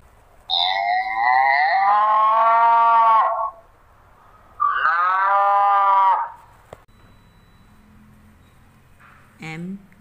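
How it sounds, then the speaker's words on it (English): Two long, loud moos from a cow, one after the other with a short gap, followed by a brief quieter sound. "Cow."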